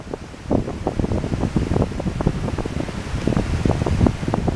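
Gale-force wind roars and buffets a microphone on a Honda CB500X adventure motorcycle riding above the Clarence River, a dense, continuous rumble with rapid gusty thumps throughout, loud and close.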